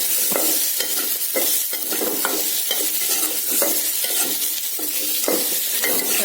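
Drumsticks and other sambar ingredients frying in a pan give a steady close sizzle, broken by regular scraping strokes of a spoon stirring them, with no voices.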